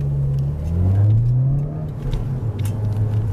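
Modded Honda Civic Si engine climbing in revs, a rising low engine tone that swells and falls back before pulling up again, steady and fairly loud throughout with no talk.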